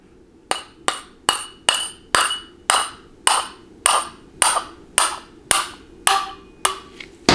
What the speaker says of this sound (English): I'm just going to gently, and I mean gently, tap on it with a hammer